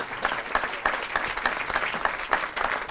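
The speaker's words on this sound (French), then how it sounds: "Je voudrais qu'on accueille, et merci de l'applaudir, Philippe Jachan" An audience applauds a guest speaker being welcomed at a debate on international solidarity, with dense, steady clapping that sounds moderately close and carries on without a break for about three seconds.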